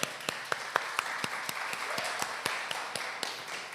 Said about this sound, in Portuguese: Aplauda aí.